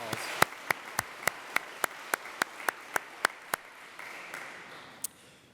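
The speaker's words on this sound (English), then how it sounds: "So big round of applause." Sparse clapping at a physician assistant white coat ceremony: about a dozen sharp, evenly spaced claps, quiet and somewhat distant, then a brief lull and a couple of stray claps.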